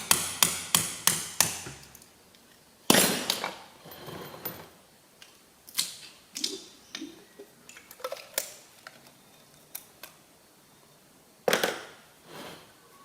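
Sharp metallic clicks and taps of a steel shank screwdriver working on a Ferguson TE20 tractor belt pulley, a quick burst of ticks at first, then scattered knocks and scrapes up close.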